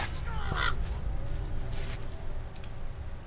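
A bird caws a couple of times in the video game God of War, sounding harsh against a low, continuous game ambience.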